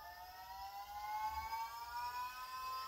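Volvo electric power steering pump revs with a steady, rising electric whine that sounds robotic, layered over a low hum and heard close up.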